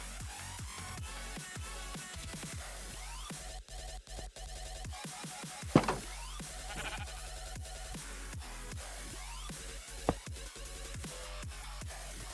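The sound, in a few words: sheep bleating in the Minecraft modpack Stoneblock 3 (video game)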